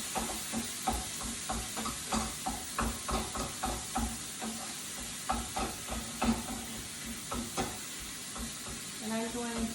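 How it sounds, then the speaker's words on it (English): Ground meat being broken up in a pan with a mix and chop tool gives repeated scraping, chopping strokes over a steady sizzle of frying, close and fairly loud. "use my mix and chop again to just chop it all up"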